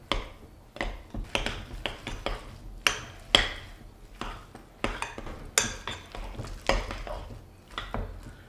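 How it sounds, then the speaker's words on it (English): A spoon scrapes and clinks repeatedly against a bowl while working Old Bay–seasoned crab stuffing for keto stuffed mushrooms, a steady rhythmic series of close, moist stirring strokes with no talking. "so we're just going to work this in with a spoon."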